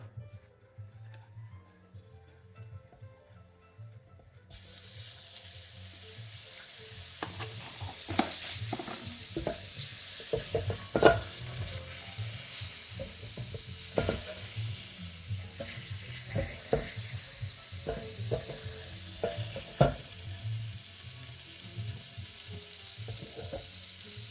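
A slice of French toast fries in butter in a pan, a close, steady sizzle that kicks in after a few quiet seconds, punctuated by scraping and clinking from a spatula and pan.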